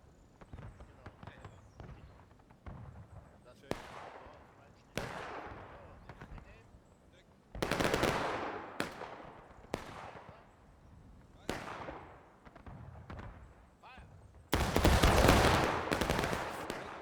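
Musket volleys ring out in the Civil War battle game War of Rights, sharp crackling bursts at irregular intervals, several loud clustered reports at a distance with a heavy sustained volley near the end, beneath battlefield ambience.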